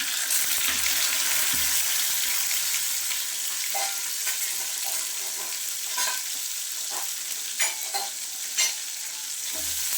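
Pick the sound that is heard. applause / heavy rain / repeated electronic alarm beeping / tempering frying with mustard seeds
tempering frying with mustard seeds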